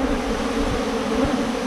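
A bee colony kept out in the jungle buzzes in a dense, steady drone of many wings, close and loud, unbroken for the whole moment with no voices.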